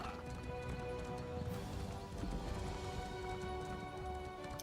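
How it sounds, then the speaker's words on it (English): Horse galloping across terrain in the online role-playing game Elder Scrolls Online, a steady clip-clop of hooves running continuously at close range, with game music and ambience layered beneath and no talk. "Go, my horse, go!"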